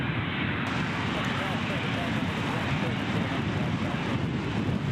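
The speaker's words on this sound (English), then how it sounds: "here is our first departure of the day, which is a Boeing 737 with Virgin" A Virgin Boeing 737 departs Gold Coast Airport, its jet engine roar a steady, loud broadband rumble that holds for the whole stretch, mixed with wind buffeting on an outdoor microphone.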